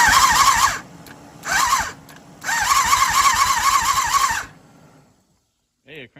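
A motorcycle's starter cranks the engine over in three bursts of whirring, the last one longest, close up; the engine does not catch, and a brief squeak follows.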